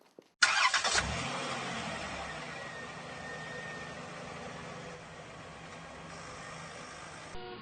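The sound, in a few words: car engine starting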